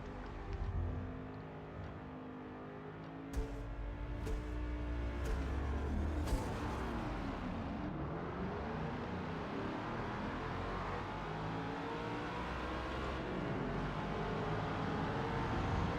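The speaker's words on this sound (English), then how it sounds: "Junior drag rail cars?" Junior drag rail cars race at a motorsport event, their engines droning loud and steady with rising revs and passing sweeps throughout.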